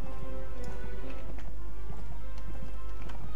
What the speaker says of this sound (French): Mon cheval va pas très vite.